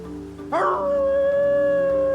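A dog howls in the video game Lightning Returns: Final Fantasy XIII, a single rising, wavering howl that holds steady and clear over a low background score.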